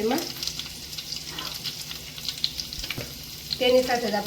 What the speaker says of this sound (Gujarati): હવે આ બધી જ વસ્તુને આપણે થોડીક વાર માટે સાતળવાની છે